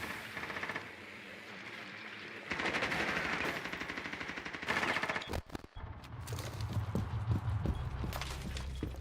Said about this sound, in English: I just started shooting